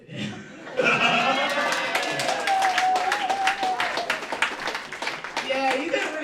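Audience at a stand-up comedy show bursts into clapping after a brief pause, sustained applause with scattered chuckles and laughter, a voice talking over it.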